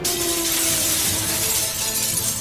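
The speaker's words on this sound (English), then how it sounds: "glass breaking" Glass shatters in a loud, bright crash that fills the whole moment, with a dense spray of tinkling fragments and a brief low tone underneath.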